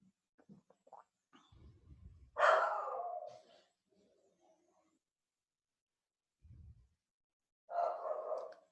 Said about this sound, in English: My terrifying dog.